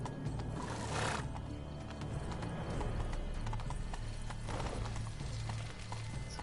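Horse hooves clip-clop at a steady galloping rhythm on horseback in The Witcher 3, with a brief whinny, close and loud, under game music and ambient rumble, no talk.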